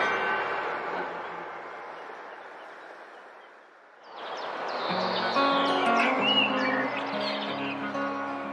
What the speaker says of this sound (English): You were listening before to the bird song?